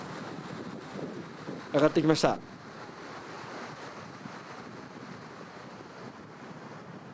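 Strong wind blows at the seaside in a steady, noisy rush with a surf-like wash, continuous and close against the mic, interrupted by a brief spoken remark.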